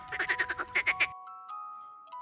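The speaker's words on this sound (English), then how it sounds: "Frogs live in a pond." Frogs croak in a pond in a quick run of about ten rhythmic calls, fairly close, then stop, leaving a faint steady tonal hum and a few soft clicks.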